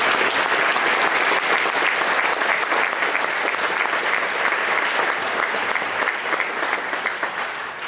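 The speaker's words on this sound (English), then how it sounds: "Everybody give one more round of applause." Sustained applause from a concert audience at the WKU 2018 band clinic, a dense, steady wash of clapping that stays loud and even for the full eight seconds with no voices over it.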